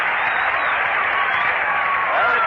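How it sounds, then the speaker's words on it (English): Baseball crowd at a New York Mets home game against the St. Louis Cardinals reacting to Ron Swoboda being announced, a steady broad wash of cheering and applause, loud and sustained, heard from a distance over old radio. "Listen to the crowd reaction to the announcement of Swoboda."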